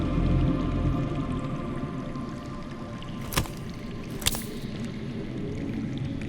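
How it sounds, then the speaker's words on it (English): Steady broadband wash of flowing water from underground in a Game of Thrones video game, with a couple of brief sharp clicks partway through. "That's water. I hear water. From underground."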